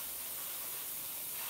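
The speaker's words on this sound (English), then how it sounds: "the model color paints spray like a treat if you have them thinned really well" An airbrush sprays well-thinned Model Color paint during a model kit build, a steady, unbroken hiss of air that holds at one even level throughout.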